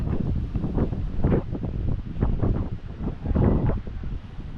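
Strong wind rumbles and buffets the microphone in uneven gusts, a loud, low roar that swells and eases without pause.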